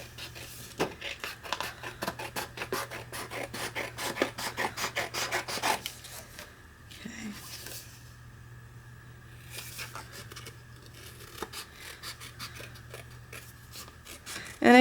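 Scissors snip and rasp through a paper card saying for a 4x6 card, giving quick rhythmic cutting strokes up close for about six seconds, then quieter sporadic rubbing and handling of the paper.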